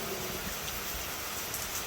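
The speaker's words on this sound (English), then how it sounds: "So we're just sat here watching it rain. And it's raining hard, real hard." Heavy tropical forest rain pours down, heard from the shelter of a tunnel: a steady, dense hiss of falling water that stays fairly soft and even throughout, with no voices.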